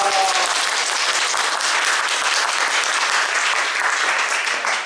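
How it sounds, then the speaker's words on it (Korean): A church congregation at a Sunday Advent service applauds the choir with steady, dense clapping that fills the whole stretch at a loud, even level. "우리 찬양대를 위해서 우리 박수 한번"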